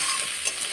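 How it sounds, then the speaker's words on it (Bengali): Finely chopped onions frying in hot oil, a brief close crackling sizzle with a light stirring scrape, alone without speech. "এইবারে তেলের মধ্যে দিয়ে দিবে কেটে রাখা পেঁয়াজ কুচি। পেঁয়াজটাও ভালোভাবে ভেজে নেব"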